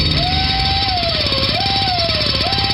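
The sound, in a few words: jackhammer noise likened to a dentist's drill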